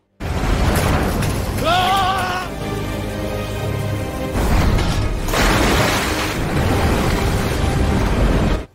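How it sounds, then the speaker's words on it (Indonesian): A pipeline explodes in an Indian action film, a loud, sustained roaring blast with rumbling debris that surges again midway, mixed with a dramatic musical sting and no dialogue. "Sardar kemudian meledakkan saluran pipa."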